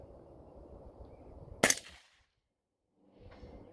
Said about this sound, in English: I can almost see the bullet flying through the air